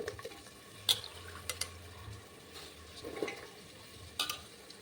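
Vegetables for pulao sauté in oil seasoned with turmeric, chilli powder and salt, giving a soft sizzle with scattered stirring taps and clinks, close but quiet.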